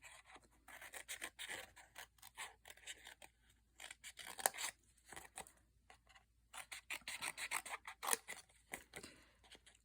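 Paper snips cut through cardstock in quick runs of crisp snipping strokes, close but soft, pausing briefly between bursts.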